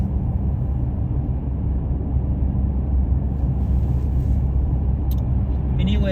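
A car cruises along a road on a sunny day, steady low engine and tyre rumble droning throughout with no break.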